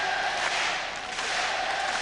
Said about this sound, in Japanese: 両国国技館が有利コール、ものすごい大歓声。